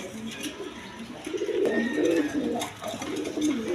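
A pair of black beauty pigeons coos in low, rolling bursts, steady and fairly close, over a busy background hum with no speech.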